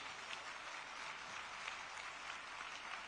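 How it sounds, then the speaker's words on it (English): Audience at a facility inauguration ceremony giving a round of applause, a soft, distant-sounding steady clatter of many hands lasting about three seconds, even and unbroken. "let us greet them all with a resounding round of applause as they grace the stage"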